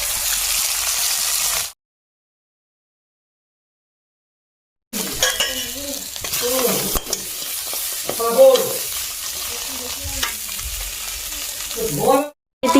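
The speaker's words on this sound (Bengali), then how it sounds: "আর এদিকে মাছগুলো ভেজে নিচ্ছি আজকে যেগুলো পেয়েছিল" Fish fry in oil in a pan with a close, crackling sizzle. It breaks off into silence for a few seconds, then returns with utensil clinks and a voice talking over it.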